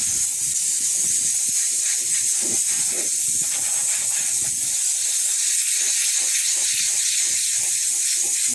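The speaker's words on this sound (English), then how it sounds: "you take your air compressor, and get away from the wind, and get in the direction that the wind's blowing" Compressed air blowing out the air filter of a Case 1845C skid steer outdoors, a steady loud hiss running throughout with slight variations in force.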